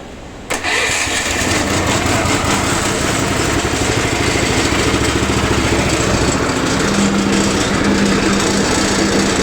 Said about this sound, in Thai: ด้านล่างเป็นเครื่องยนต์นะครับ มีแบตเตอรี่ มีเครื่องยนต์ เวลาใช้งานก็ ปกตินะครับ เปิดน้ำมัน ก็สตาร์ทได้เลย